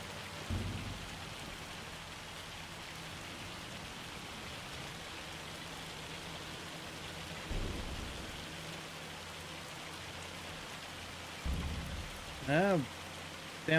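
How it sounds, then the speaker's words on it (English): Steady rain pours in Farming Simulator 25 on a Highlands map, with a few low, muffled thunder rumbles rolling in now and then and a brief bird chirp near the end. "Sounds like we're getting a bit of nitrogen coming down with our rain. There's a bit of lightning happening as well"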